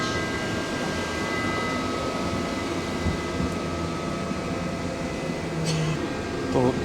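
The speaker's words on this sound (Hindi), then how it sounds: "इस वक्त ट्रेन चल रही है, बड़ी स्पीड से जा रही है।" Train running at speed between Manchester Piccadilly and Liverpool Lime Street, heard from inside a coach as a steady dense rumble and hum with faint rattles, continuous and fairly loud, with no voices.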